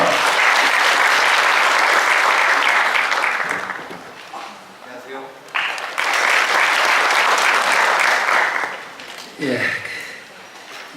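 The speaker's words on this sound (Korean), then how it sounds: "큰 박수로 모시겠습니다." An audience claps loudly to welcome a speaker at a Korean urban and cultural regeneration event. The dense applause fades out, briefly swells again, and a voice speaks over the end.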